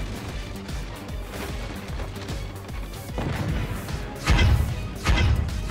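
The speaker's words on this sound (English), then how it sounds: "the mortars actually hit the missiles" Mortar shells striking incoming missiles in the physics fort-battle game Forts, a run of muffled thuds and impacts building to two heavy booming blasts near the end, with no talk.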